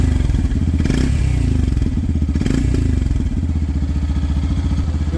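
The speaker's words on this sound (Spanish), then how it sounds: "Ahora escuchen el sonido que reproduce el escape." Exhaust of a 2026 Yamaha FZ 3.0 motorcycle idling just after starting, a loud, close, steady low throb with rapid pulsing and faint mechanical clatter, heard alone.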